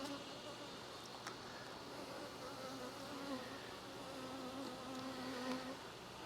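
Honey bees buzzing steadily inside a hive, a continuous moderate hum with a few individual bees droning closer past the mic, no voices.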